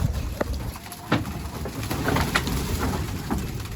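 Wild pigeons coo softly nearby, with scattered wing flutters and light scuffing as they land, over low outdoor background noise.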